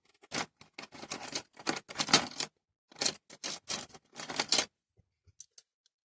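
Scissors snipping the end off a strip of material during a pink paint job on a Studebaker model, a quiet run of short sharp cuts and rustles that stops near the end.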